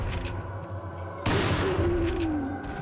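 A shotgun fires in the video game Resident Evil 4, one sudden loud blast cutting through low background rumble and trailing off in a decaying roar.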